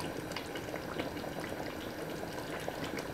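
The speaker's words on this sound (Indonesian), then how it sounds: "Kemudian saya masukkan kecap manis" Sweet soy sauce poured into beef steak cooking in a pan, with a continuous dense sizzling and bubbling hiss that holds steady and close throughout, no voices.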